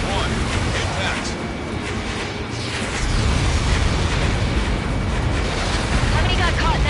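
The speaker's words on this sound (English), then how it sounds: "How many got caught in that explosion?" A large blast in the Ace Combat 7 flight combat game, from a Helios projectile impact, sounds as a loud, sustained rumbling roar that swells and deepens midway, with a voice speaking over the blast.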